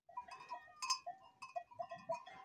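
Sheep in a village barn bleat repeatedly while being fed wheat straw mixed with beet pulp, several voices calling in quick overlapping succession at moderate distance with no talk.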